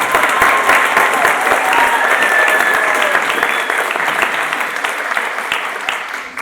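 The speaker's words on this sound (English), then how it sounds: "Let's give them a big round of applause." Warm crowd of families applauding kindergarten graduates at a school graduation ceremony, loud sustained clapping with a few scattered claps standing out, fading gently toward the end.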